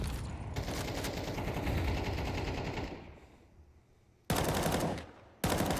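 Rapid bursts of automatic gunfire in Counter-Strike 2, dense and loud, fading briefly before two sharp renewed volleys; sounds like game audio.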